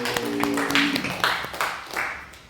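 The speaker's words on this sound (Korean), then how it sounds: "박수로 영광." A church congregation at a Korean Sunday worship service gives a short burst of rhythmic clapping in praise, fairly close and moderately loud, with several distinct clap clusters and a voice briefly audible.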